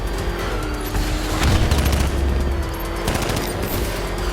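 Enemy gunfire in Batman: Arkham Knight, heard as a dense, continuous rattle of rapid shots over a loud rumbling battle bed, with heavier low booms midway, steady and close throughout.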